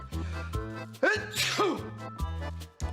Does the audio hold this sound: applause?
no